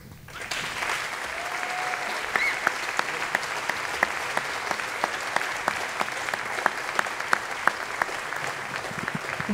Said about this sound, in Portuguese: quero que lhe deem uma grande salva de palmas